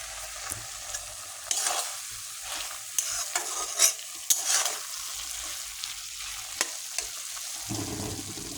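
Leafy greens being stirred and fried in a home kitchen pan, with bursts of spatula scraping and stirring over a soft, steady sizzle, close and moderately loud, with no talking.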